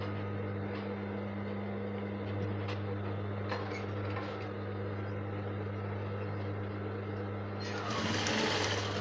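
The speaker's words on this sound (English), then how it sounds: "then you sew with the sewing allowance" A sewing machine stitching a sleeve gives a steady, low motorized hum with faint intermittent clicks, growing slightly louder and brighter near the end.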